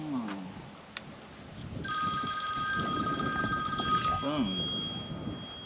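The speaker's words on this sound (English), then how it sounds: "Phone." A telephone rings with a bright electronic warble that starts partway through and keeps going over background noise and indistinct talk during the installation of a Grundfos 11SQF-2 solar pump system in Bristow, Oklahoma.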